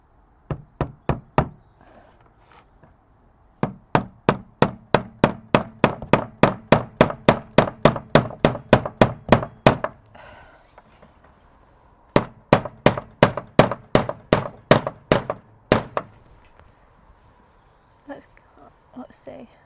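Hammer blows driving nails into a wooden pallet collar raised bed on an allotment plot, struck in steady rapid runs of sharp knocks with short pauses between bursts, close and loud, with occasional talk nearby.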